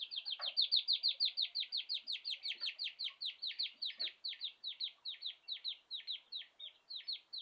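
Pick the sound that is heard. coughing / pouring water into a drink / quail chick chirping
quail chick chirping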